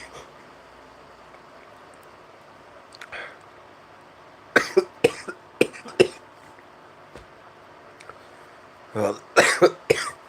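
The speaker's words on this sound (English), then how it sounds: "is this just gonna be me coughing the whole damn stream?" A sick person coughs in several sharp, close bursts, a cluster in the middle and another near the end, separated by quiet stretches, with a brief spoken word.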